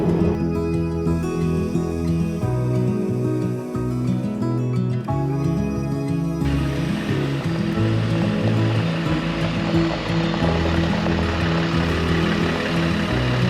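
A 4x4 truck camper cruising along a road, its engine and road noise forming a loud, steady low drone that continues without a break and without any talk.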